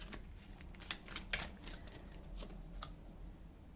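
Tarot cards being shuffled in a few quick riffling bursts, close and fairly soft, with brief pauses between the rustling flurries and no talking.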